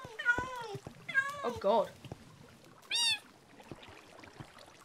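Siamese cats meowing: a few short, close, strained meows in quick succession, then a higher, brighter cry a second later, with a person speaking briefly in between.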